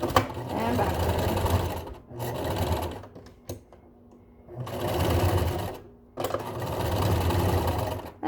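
A sewing machine stitches elastic onto a pleated 100% cotton face mask, running forward and backward in four steady bursts of rapid mechanical clatter separated by short pauses, close and clear with no talking.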